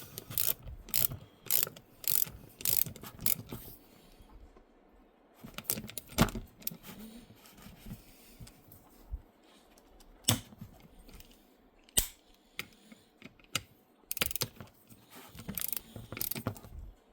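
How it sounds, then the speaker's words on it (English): Ratcheting wrench clicks in short bursts while screws are driven down and torqued to 90–120 inch-pounds, with metallic jangling and pauses between close, crisp passes. "we'll screw them down and we'll torque them"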